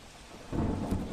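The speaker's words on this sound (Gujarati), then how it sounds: "વલસાડમાં વાપીમાં વીજળીના કડાકા ભડાકા સાથે વરસાદ થયો।" A thunderclap rumbles up during a rainstorm in Valsad, a short deep roll that swells from a quiet wash of rain and holds at moderate loudness.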